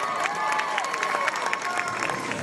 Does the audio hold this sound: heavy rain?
no